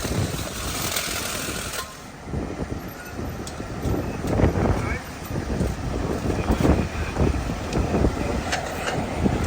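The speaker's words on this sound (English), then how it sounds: "It's gonna be a long night with this wind." Strong wind gusts at a city sidewalk where firefighters are taking down a toppled tent, with a steady roaring rumble and buffeting against the microphone and voices talking underneath.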